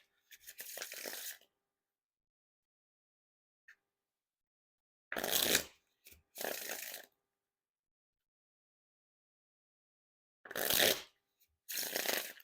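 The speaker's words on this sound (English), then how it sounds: "now time for the riffle shuffle or bridge shuffle" Playing cards from a 1st Playing Cards V3 deck given riffle or bridge shuffles: several separate crisp bursts of rapid fluttering card snaps, close and fairly quiet, with silence between them.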